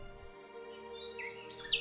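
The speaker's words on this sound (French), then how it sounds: "Le vrai petit rossignol de la forêt était revenu chanter pour consoler son empereur." A nightingale sound effect sings in a told tale, with brief bright chirps and a rising trill over sustained soft musical tones, faint and close.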